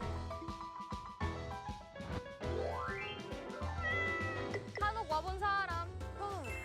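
A cat meowing in short repeated calls amid a busy, layered mix of other sounds, with voices present in the background.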